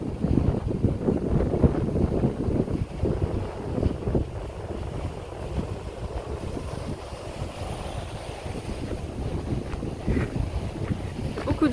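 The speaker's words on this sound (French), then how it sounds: "Beaucoup de vent, enfin beaucoup de vent." Strong, steady wind buffets the microphone with a constant low roar on the coastal path at Cap Camarat, with the wash of the sea underneath; no voices are heard.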